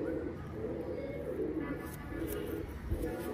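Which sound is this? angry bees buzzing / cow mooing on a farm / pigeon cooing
pigeon cooing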